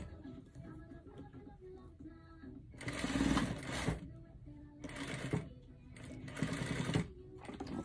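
A sewing machine stitches a skirt waistband, its motor whirring in several bursts that start and stop, the loudest runs close and steady, with soft handling noise and quiet room hum between.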